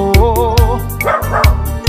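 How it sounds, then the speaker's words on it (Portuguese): A little dog barks in quick sharp yips, about five or six in a row with short gaps, loud and close, over a steady musical backing with a sustained tone. "E o cachorrinho latindo, pedindo churrasco."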